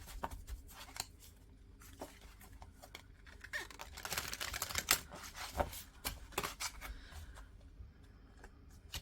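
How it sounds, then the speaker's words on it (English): Tarot cards are shuffled by hand in a quiet room, a close series of soft riffling, slapping and sliding flurries that swell in the middle and trail off. "I'm going to shuffle it again."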